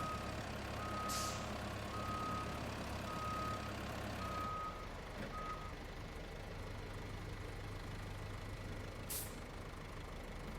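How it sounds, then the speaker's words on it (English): In the video game RoadCraft, a mulcher vehicle sounds evenly spaced reversing beeps over a low idling truck engine, followed by hissing air-brake bursts, with no talking. "Put the mulcher to work."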